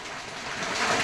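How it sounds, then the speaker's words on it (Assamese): Heavy rain falling in Dhemaji, a dense, steady hiss of downpour that stays loud and unbroken throughout, with no voices. "ধেমাজিৰ পৰিৱেশ এই মুহূৰ্তত দেখুৱাইছোঁ প্ৰবল বৃষ্টিপাতৰ সৃষ্টি হোৱা পৰিলক্ষিত হৈছে"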